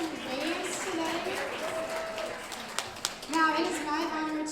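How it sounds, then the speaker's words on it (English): Audience applause at a corporate gathering, a steady wash of clapping that runs throughout, with a voice speaking over it and a few sharper claps standing out near the end. "Let's give yourselves a round of applause."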